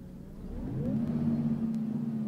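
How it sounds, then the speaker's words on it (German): The engine of a Mercedes O530 Citaro bus in a bus simulator game settles into a steady low idle after a short rise in pitch, humming evenly and close with no talk over it. "Motor ist gestartet"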